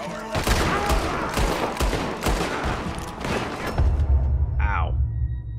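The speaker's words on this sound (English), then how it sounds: "I'm getting shot through wood!" Dense, rapid gunfire in the Red Dead Redemption 2 video game, close and loud, with overlapping shots and bursts rattling continuously, then thinning toward the end as a low rumble and a brief whistle-like cry remain.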